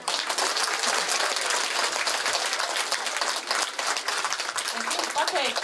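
Crowd at a school children's song festival in Līvāni applauds loudly and continuously, a dense wash of clapping that swells and holds throughout, with a voice faintly beneath.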